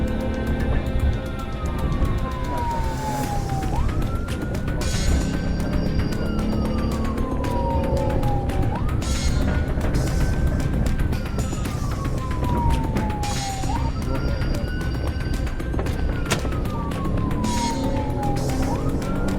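Police car siren wailing during a high-speed chase, its pitch sweeping down and snapping back up in a repeating wail cycle, loud and continuous over steady road rumble and traffic noise.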